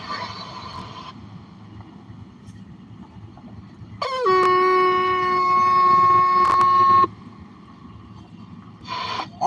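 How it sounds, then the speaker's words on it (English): A truck's train horn, malfunctioning, blares in one sustained chordal blast for about three seconds, close by, with a brief second burst starting near the end. "Something's wrong with my train horn."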